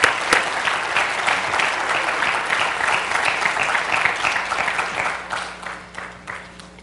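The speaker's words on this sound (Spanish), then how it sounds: "todos se merecen un tremendo aplauso" A church congregation applauding its helpers, dense clapping that begins at full strength and gradually thins and fades toward the end, leaving a faint hum.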